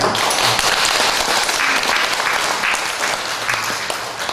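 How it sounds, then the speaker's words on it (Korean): Congregation applauding inside a church during a gathering praying for reunification, a loud, dense, continuous wash of many hands clapping that holds steady for several seconds. "네, 박수 한번 주십시오."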